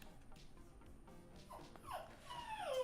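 A dog whimpering softly, a few faint high whines that rise and stretch into a longer, louder plaintive cry at the end, alone against quiet room noise.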